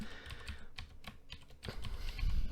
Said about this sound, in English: in the bottom left hand corner we're going to type